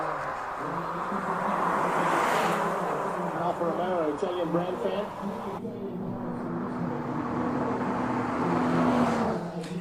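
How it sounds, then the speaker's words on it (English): Race car climbing the Simola hillclimb course, engine note rising and shifting under steady outdoor ambience with a sustained drone, heard at moderate distance throughout along with background voices. "we want to try and get the sounds of the car to you as well"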